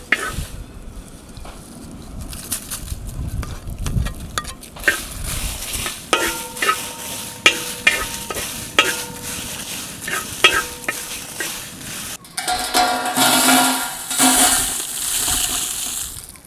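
Whole spices — cumin, cardamom, cinnamon, bay leaf, cloves and star anise — dry roasting in a pan for Alfaham chicken masala, with a steady sizzle and repeated scraping stir strokes, growing louder and brighter near the end, no talking.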